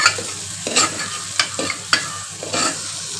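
Spices are stirred into a pan for dal khichdi, with a soft sizzle beneath repeated scraping strokes of the spoon, each stroke a short distinct scrape.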